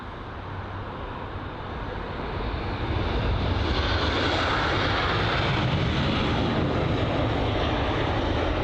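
An ITA Airways Airbus A320-200 in special livery at London Heathrow makes a steady, loud jet roar that swells and holds without breaks.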